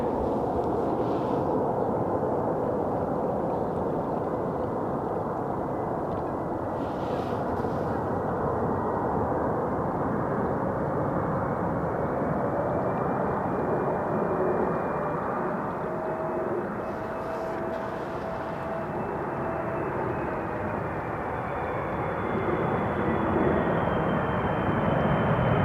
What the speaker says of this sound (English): a 777 from KLM, flight 767, but a 777-300 ER coming in from Bonaire